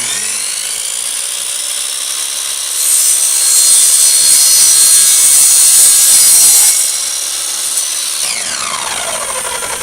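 A power saw cuts off irrigation pipe caps with a loud, high whining rasp that grows stronger in the middle of the cut, then falls away and winds down.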